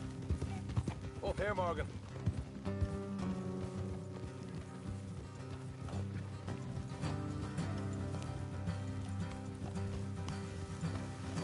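Horses' hooves clip-clop steadily along a road in the open-world game Red Dead Redemption 2, mixed under music and a brief spoken line from a rider.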